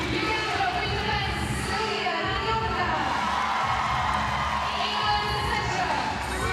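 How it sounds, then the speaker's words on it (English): Arena crowd at the 2019 Netball World Cup match between England and Uganda cheering and applauding continuously, a loud, dense roar with whoops and high shouts, under an announcer's voice. "Guthrie takes in the applause of the crowd"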